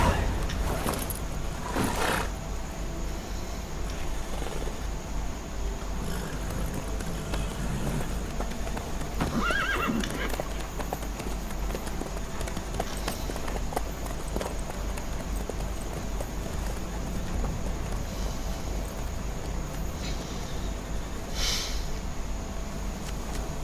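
Horse hooves clip-clop steadily over a long stretch in The Witcher 3, a continuous rhythmic plodding mixed with ambient game sounds, with voices talking over it at times.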